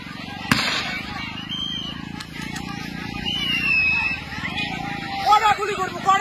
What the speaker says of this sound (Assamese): গুলি চালনা কৰি আছে